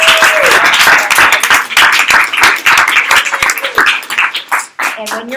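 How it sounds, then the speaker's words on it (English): Dense clapping from an audience fills the whole stretch, loud and steady with many overlapping hand claps, while a voice cuts in briefly near the start and again at the end. "now we're going to clap like we've never heard this before"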